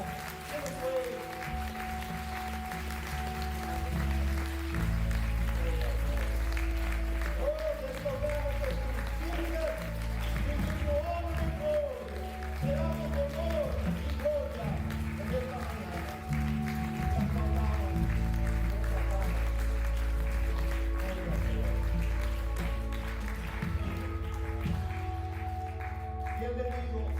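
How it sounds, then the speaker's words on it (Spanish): A church congregation at a Sunday service applauds in a moderate, continuous patter, heard beneath steady musical tones and some voices. "Dar un aplauso por ti una vez más."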